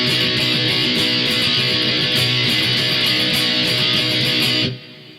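Electric guitar repeating a single chord-shape pattern four times as the fill from a song, steady, loud and distorted throughout before cutting off abruptly near the end.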